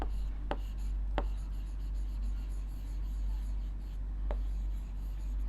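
Pen or pencil writing by hand on paper makes faint, soft scratching with a few sharp taps, all heard over a steady low hum.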